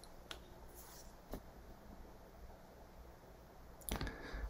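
A computer mouse clicked on a Mac during software installation, with a few sharp, quiet close clicks, including a quick pair near the end, over faint room hiss and no speech.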